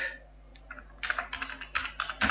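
Computer keyboard typing, a quick run of light clicking keystrokes in uneven bursts, close and fairly quiet.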